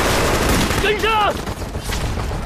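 Machine gun fire in a wartime battle scene sounds as a continuous rattling fusillade, loud and dense, while a voice briefly shouts over it midway.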